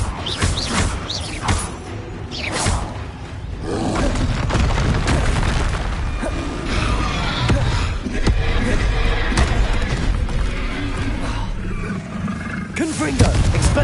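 Confringo spell blasts in the video game Hogwarts Legacy: dense rumbling booms and roaring bursts piled up over continuous combat noise, loud and sustained throughout, ending in a heavy final impact.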